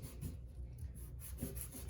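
Coarse sandpaper rubbed back and forth over a chipped bathtub surface, a steady close scraping friction with slight swells in rhythm, no voices.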